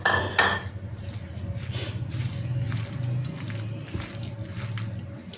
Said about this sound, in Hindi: और इसे अच्छी तरह से इसमें मिक्स करेंगे